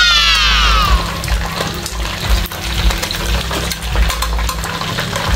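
Pork leg (pata) deep-frying in hot oil, a steady close sizzle and crackle running throughout with a brief hissing burst at the start and occasional pops.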